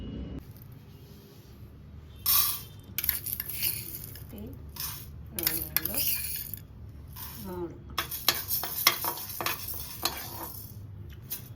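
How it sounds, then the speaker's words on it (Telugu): A spoon scrapes and clinks against a pan while toor dal is roasted and stirred until golden brown for rasam powder; close, irregular metallic scraping and tapping over a low background hum. "నాలుగు టేబుల్ స్పూను కందిపప్పు బాగా గోల్డెన్ బ్రౌన్గా వేయించుకోవాలి"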